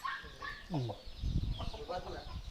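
A Thumar breed fighting rooster gives a few short, throaty clucks and calls close by, over steady background noise and some low rustling and thumping.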